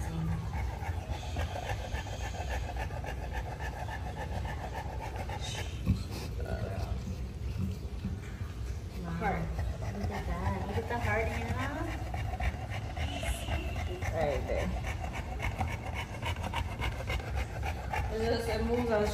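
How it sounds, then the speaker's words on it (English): A pregnant dog pants heavily in a fast, continuous rhythm close by, while people talk over the breathing throughout. "she's panting"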